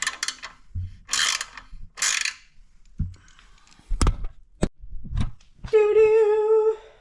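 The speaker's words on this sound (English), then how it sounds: "I'm also gonna tighten these up" A ratchet wrench tightens the bolts on a mini bike fuel tank, producing several bursts of close, rapid pawl clicking between clunks of tool handling, ending in a longer run of ratcheting.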